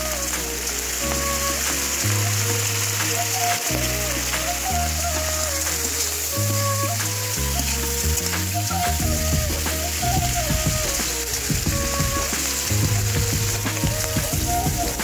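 Onion stalks and capsicum fry in a pan with a steady, continuous sizzle and crackle, partly masked by louder background music throughout.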